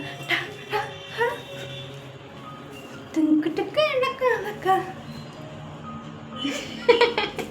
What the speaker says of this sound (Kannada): ನಾಯಿ ಮರಿ ನಾಯಿ ಮರಿ ತಿಂಡಿ ಬೇಕೇ